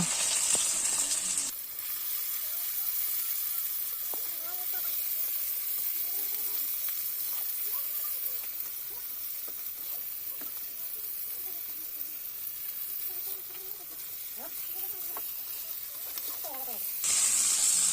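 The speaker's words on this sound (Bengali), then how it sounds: "এবার পেঁয়াজ দিয়ে দিল" Onions for a meat curry frying in a pan make a continuous close sizzle and hiss, with faint scraping stir sounds and quiet background voices, the sizzle louder briefly at the start and end.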